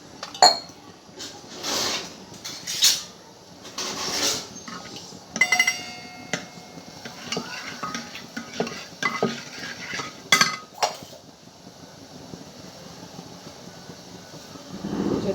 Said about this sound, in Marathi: हळद मीठ टाकायची ह्याच्यामध्ये आणि हटवून घ्यायचं